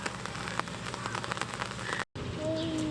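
Steady rain pours down at the Edmonton Valley Zoo on a wet day near a snow leopard enclosure, a dense close hiss of drops on surfaces with faint voices underneath and a brief dropout near the end.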